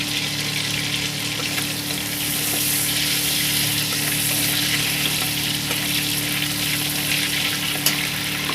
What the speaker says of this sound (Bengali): আমি গরম মশলাটা এবার ফোড়ন দিয়ে দেবো একই তেলের মধ্যে।